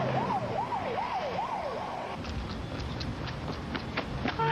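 An emergency vehicle siren wails in rapid up-and-down sweeps for about two seconds, loud and close, then cuts off and leaves traffic noise and a few short tonal chirps.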